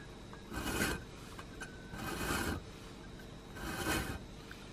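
A fret saw scores a metal can for an alcohol stove on a thin wet cloth: three slow, quiet rasping strokes, close and alone.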